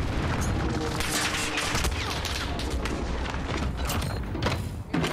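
A frag grenade blast rolls into dense, loud battle noise in a Warzone shooter match, with continuous booms, thuds and rattling gunfire filling the whole stretch and a sharper crack near the end.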